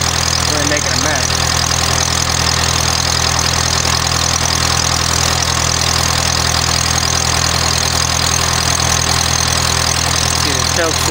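Kohler 1E21 emergency light plant engine running steadily with its choke easing open, a loud continuous close-up drone with no break over about eleven seconds.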